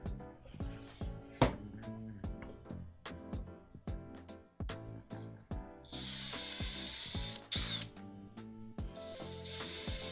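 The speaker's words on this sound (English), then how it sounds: "So let me drill these out quickly." A handheld power drill bores out 3D-printed end caps for a RatRig V-Minion 3D printer kit, close up: a series of short whining trigger bursts followed by longer, harsher grinding runs as the bit cuts plastic, with no talking.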